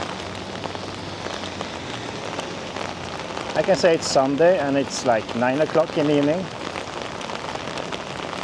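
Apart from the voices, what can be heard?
rain falling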